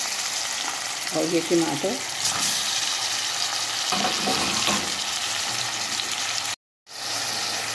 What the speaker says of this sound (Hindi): पहले इस मसाले को अच्छी तरह से हमने भूनना है